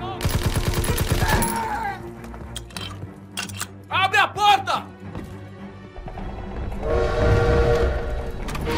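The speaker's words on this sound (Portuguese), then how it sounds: "O trem tá indo embora!" Train departing amid World War II combat in Call of Duty: WWII, loud rumbling and horn-like tones mixed with gunfire bursts and explosions, with shouting voices over the action.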